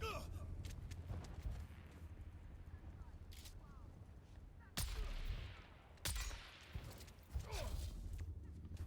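Gunfire from the video game Dune: Awakening in the Sentinel City area, sharp shots ringing out at intervals, with bursts near 4.8, 6 and 7.4 seconds over a steady bed of game ambience and combat noise.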